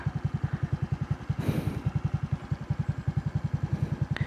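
A motorcycle engine chugs at a steady, rapid rhythmic putter while riding near Binalonan, Pangasinan, close and prominent, with a brief rush of wind noise midway.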